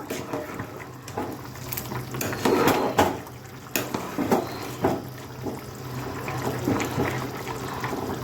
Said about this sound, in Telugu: చూడండి ఉడుకుతుంది కదా